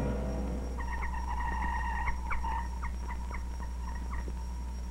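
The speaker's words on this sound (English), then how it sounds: "That sound is a communist jammer at work" A communist radio jammer interferes with a Radio Free Europe shortwave broadcast, producing a warbling, stuttering electronic tone in rapid repeated bursts over a steady low hum.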